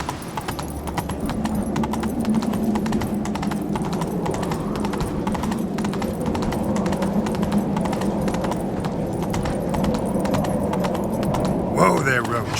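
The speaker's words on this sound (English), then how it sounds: "Whoa there, Roach" Steady clip-clop of horse hooves from The Witcher 3 video game, rhythmic and continuous throughout, with voices talking over them and a low background score.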